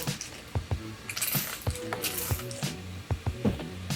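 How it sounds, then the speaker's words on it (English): A spray bottle squirts soapy water onto a rebuilt B7 boat valve to check for leaks, giving several short, close, hissing bursts with wet squishing between them. "Spray soapy water in the valve to check the new components for leaks."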